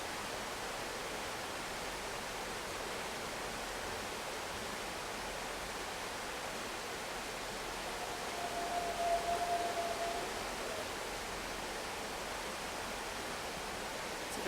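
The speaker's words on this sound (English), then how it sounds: "It's the sound of the wind near the ocean, hence the name, ocean breath." Steady, soft breathy rush of slow ocean-breath throat breathing, like wind, continuous and even, swelling slightly midway, with no voices.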